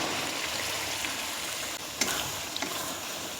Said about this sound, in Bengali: মটরটা দিয়ে খুব ভালো করে কষিয়ে নেব মশলার সঙ্গে।